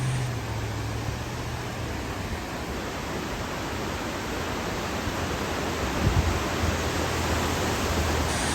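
Flooded Oak Creek in Arizona rushes past submerged boulders, a loud, unbroken roar of churning water that holds steady throughout with no voices.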